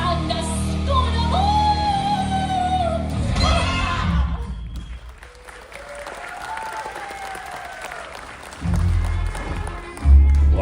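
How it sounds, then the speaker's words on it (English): An audience at a Disney Studios live show claps loudly and steadily, with a few whoops rising over the applause before it fades and then swells again near the end. "Big finish. Applaud. Yes, louder."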